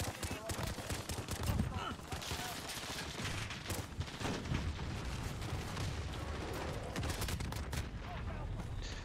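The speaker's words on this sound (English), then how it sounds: "I'm trying to like hip fire with the hand cannon essentially." Rapid video game gunfire from a hand cannon, loud and dense, with shots cracking over a constant backdrop of other weapons firing throughout.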